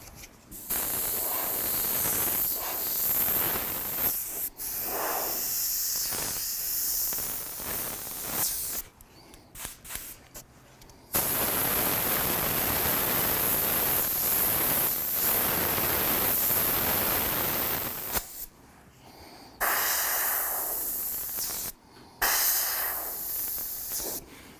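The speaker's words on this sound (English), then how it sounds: "You spray it dry, which means more air than paint." An airbrush sprays white paint dry, with more air than paint, giving long loud hissing bursts separated by short pauses.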